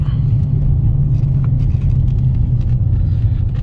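2015 Dodge Challenger 392 Scat Pack being driven, its engine a loud, deep, steady rumble throughout with slight rises in pitch, and a voice faintly present underneath.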